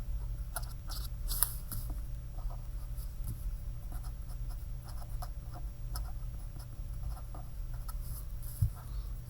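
Pen or marker writing chemistry equations by hand on a board: steady, close scratching strokes with short pauses between words, continuing quietly throughout with no talk.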